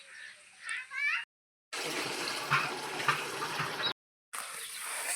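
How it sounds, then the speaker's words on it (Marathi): Water from a farm borewell pipe gushes steadily onto a field, a broad rushing spray broken by two short dropouts, with a little noise before it starts. "तसंच इकडं पाणी चालू केलं"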